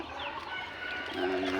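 Several turkeys on a farm gobble and call in a noisy flock, overlapping cries and warbling calls filling the clip without a break.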